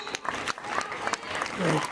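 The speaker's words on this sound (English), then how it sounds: "Let's give a huge round of applause for our chief guest for today." Applause for the chief guest at a St Joseph's Convent School event, a steady wash of clapping from the audience with a voice talking over it.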